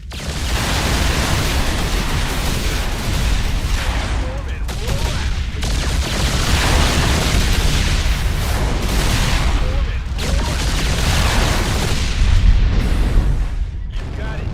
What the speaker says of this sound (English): It's armed with 2 powerful missiles that it can use to engage enemy capital ships.